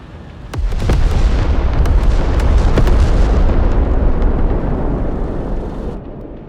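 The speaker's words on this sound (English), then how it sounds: "Ballistic missiles!" Ballistic missile strike explosions in the video game Broken Arrow: a sudden loud blast opens into a long, heavy rumbling roar with scattered sharp cracks, sustained for several seconds before slowly fading.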